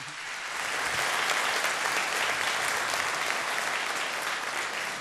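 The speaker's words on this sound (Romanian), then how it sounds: "vă rog să-l aplaudați" Applause from the audience at a Christmas carol concert in Medias, dense and sustained, building quickly after a quiet start and then holding strong.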